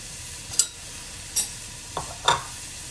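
Onions sizzling in a pan for vegetable soup and stirred with a spatula, a soft steady frying hiss punctuated by four brief, close scrapes and taps of the spatula.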